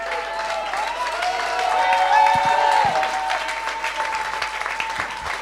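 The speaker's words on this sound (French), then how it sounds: "on peut les applaudir bien fort" An audience at an award ceremony gives a strong round of applause, thick clapping swelling in the middle with a few cheers and voices mixed in, plus a brief melodic tone under it.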